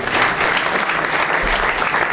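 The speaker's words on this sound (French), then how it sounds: "pour Pierre Sabatier, que je demande d'applaudir une nouvelle fois" Audience applause at a departmental and regional awards ceremony in Montpellier as a bronze medal is presented, a steady dense wash of clapping that holds loud and even throughout.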